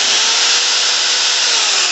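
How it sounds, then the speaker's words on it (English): Power drill boring under heavy pressure, a loud, steady, unbroken high whine and grinding with no pauses. "they run the drill, and they're pushing pressure"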